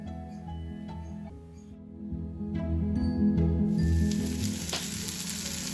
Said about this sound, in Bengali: এবারে প্রত্যেকটা পনিরকে আস্তে আস্তে মানে ফ্ল্যাট করে দিতে হবে যাতে ভালোভাবে আর কি ফ্রাই হয়